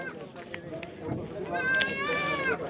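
Nanny goats with kids, offered for sale, give a couple of wavering bleats that rise over background chatter near the end of a short stretch.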